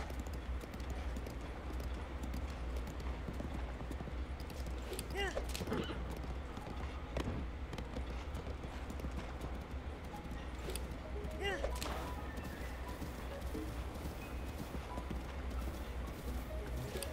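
Horse hooves clip-clop steadily in The Legend of Zelda: Breath of the Wild, a quiet, continuous rhythm of hoofbeats over an ambient game backdrop with a few brief swooshing accents.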